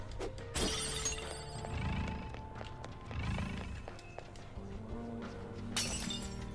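A glass wall shattering in Persona 5 Royal, bright crashing bursts at the start and end over layered game music and effects.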